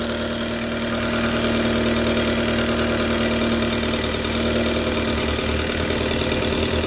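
An Opel Astra engine idles with a knocking fault, a loud, close, steady mechanical drone with a rapid repetitive tick-knock running underneath throughout, no talking.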